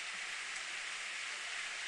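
Steady, faint hiss of an evening rain shower in the Steins;Gate video game, an even wash of falling drops with no talk.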